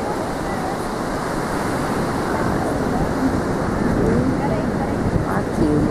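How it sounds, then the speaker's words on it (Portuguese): Ocean waves and wind at Ohama Beach make a steady, loud roar of surf with wind buffeting the microphone, continuous and unbroken throughout. "Tem vento, tem onda."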